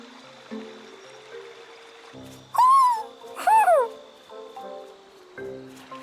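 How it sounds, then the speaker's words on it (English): Owl in the video game Tales of Arise giving two loud close hooting calls in quick succession over a quiet ambient background, with soft rustling and low tones around them. "Hey, is that owl beckoning us over?"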